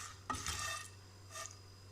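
Cardamom pods roasting in a dry pan, stirred with a couple of short scraping, rustling strokes over a low steady hum, close and fairly quiet, no voices.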